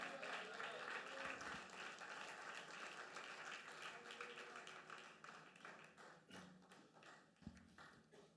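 Congregation at a Spanish-language church service applauding loudly and steadily, the dense clapping filling the room and fading slightly toward the end with a few sharper claps and knocks.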